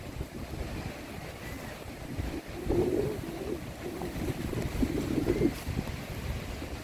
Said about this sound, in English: Fucking windy on the beach, man.